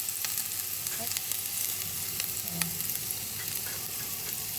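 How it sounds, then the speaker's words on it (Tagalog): Ginger sizzles in hot oil in a clay pot for pinakbet, a steady close crackling fry with scattered sharp pops throughout. "isunod lang natin yung luya kapag mainit na yung mantika sa palayok"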